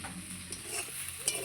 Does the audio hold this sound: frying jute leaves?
yes